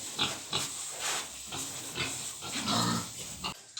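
A sow on a farm, just after her piglets were weaned, grunts and snorts in repeated short bursts at close range, with a steady breathy hiss underneath and no talking.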